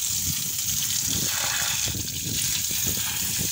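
Electric water pump motor running at home, pushing out a steady gush of water with a constant broadband rush and low, uneven churning underneath, close and continuous.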